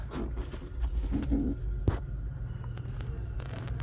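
Soft, low pigeon cooing in a few short rounded bursts, fairly close, over a constant low background rumble.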